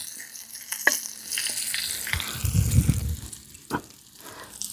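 Onion pieces and curry leaves fry in a pan with a steady sizzle, broken by a few sharp clatters of a utensil and a louder burst of bubbling midway.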